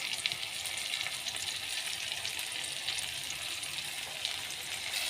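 Chicken with onion, tomato, salt, chilli, cumin, turmeric and ginger-garlic paste being stir-fried in a pan, a soft, continuous sizzle with faint scraping of stirring, fairly quiet and steady throughout.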